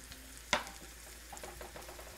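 Mushrooms sizzling gently in a small saute pan make a soft, close hiss with one sharp knock early on and faint crackles afterward.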